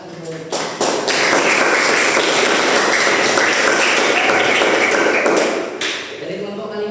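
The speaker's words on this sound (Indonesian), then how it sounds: "Boleh kasih tepuk tangan untuk" Applause from a classroom audience fills most of the stretch, a steady, dense patter of many hands clapping that starts abruptly, holds loud and even, then tapers off near the end, with a voice faintly underneath.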